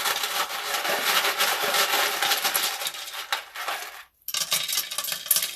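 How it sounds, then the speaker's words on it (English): Charms thrown onto a surface for a card reading make a loud, dense clatter of small metal pieces rattling and settling, followed by a brief silence and then more clinking. "First, I'm going to throw charms, and we're going to see what initials come up and what charms come up."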